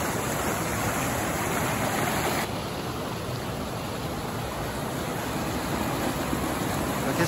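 A small mountain stream runs full after a rainy morning, giving a constant rushing, broadband babble that stays steady and close throughout.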